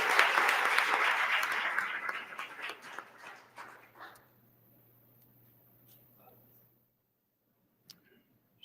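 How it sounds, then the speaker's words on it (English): An audience at a panel discussion on affirmative action claps loudly, then the applause thins out and fades over about four seconds, leaving scattered faint clicks. "I think that's a round of applause."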